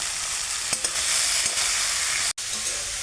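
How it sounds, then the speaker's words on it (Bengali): Onion stalks and potatoes frying in a pan for a spicy Bengali tangra fish curry, a steady loud sizzle with a few soft stirring clicks throughout. "পেঁয়াজ কলি আর আলুটা আগে ভালো করে ভেজে নেব।"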